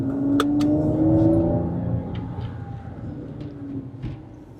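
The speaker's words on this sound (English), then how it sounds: "this has got like the sports exhaust on it as well" Porsche 911 of the 997 generation fitted with a sports exhaust, its engine note loud and close as it rises in a rev and then settles to a steady rumble, with a couple of sharp clicks early on and no talking.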